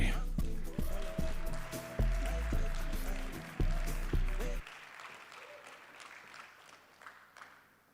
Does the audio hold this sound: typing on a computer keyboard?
no